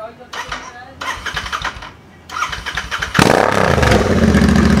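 A Royal Enfield Interceptor 650 with its exhaust removed is cranked in bursts of starter churning, then fires and settles into a loud, raw, close-up idle; a voice speaks briefly at the start.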